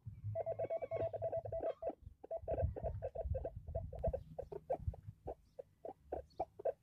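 A Rutus Alter 71 metal detector sounds off during an air test over a small hammered coin, giving rapid, repeated high beeping and warbling signal tones at low level in short bursts.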